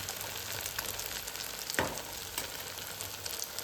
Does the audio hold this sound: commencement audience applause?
no